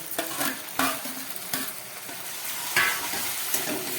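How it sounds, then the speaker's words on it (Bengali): Ground mustard paste goes into frying masala in a pan for katla fish with brinjal, brisk spatula strokes and scrapes repeating over a light sizzle, close and clear. "এবার আমি এর মধ্যে দিয়ে দিচ্ছি বেটে রাখা সর্ষে।"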